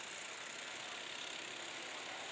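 A racing kart engine on a circuit, a steady faint mid-pitched buzz heard from a distance, even and unbroken with no voices over it.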